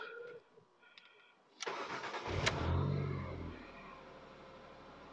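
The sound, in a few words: Ford Mondeo ST220 car engine running after start-up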